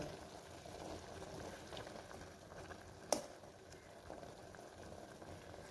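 Water boils quietly in a pot with a soft, continuous bubbling and one brief click midway.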